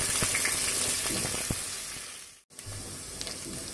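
Chopped onions dropped into hot mustard oil give a steady, loud broadband sizzle of frying, with a few small pops and a brief dip near the middle. No one speaks.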